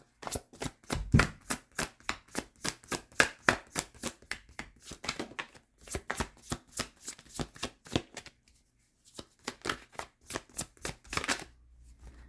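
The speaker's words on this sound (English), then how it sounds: "let's grab a tarot card too. Maybe two." Tarot cards are shuffled in quick riffling bursts close up, the crisp rhythmic flicks running in a series with one short pause before resuming.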